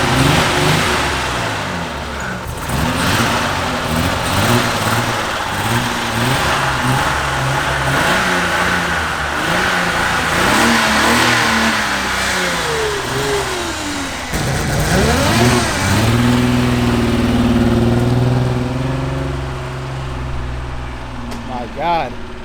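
A BMW E30 with a failing engine revs while driving, rising and falling in pitch through acceleration, with loud cabin road noise and people talking throughout.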